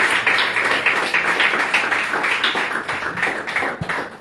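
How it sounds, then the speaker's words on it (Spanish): Congregation applauding in a church service, a steady dense patter of many hands clapping continuously throughout, fairly close and loud with no talk over it. "demos un aplauso al Señor en esta hora"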